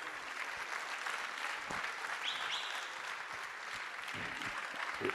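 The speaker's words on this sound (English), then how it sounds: "a round of applause for them" Steady applause from an audience for an orchestra at an evening concert, a dense wash of many hands clapping continuously at moderate distance throughout.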